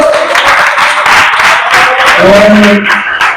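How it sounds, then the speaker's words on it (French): An audience at a birthday celebration applauding warmly as performers step forward, a sustained burst of clapping with crowd murmur, loud and close, with a voice briefly rising near the end. "je vous demande d'applaudir la très chaudement"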